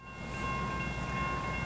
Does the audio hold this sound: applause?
no